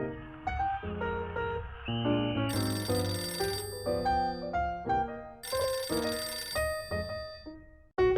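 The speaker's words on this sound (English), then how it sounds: "when the phone rang" A telephone rings with a bright, tuneful electronic melody repeating in phrases, loud and clear with no voices.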